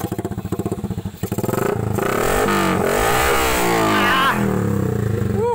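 A motorcycle fitted with a KOU open exhaust pipe revs loudly and close by. It starts with a choppy idle, then climbs into a sustained, rising roar that holds high before dropping away at the end.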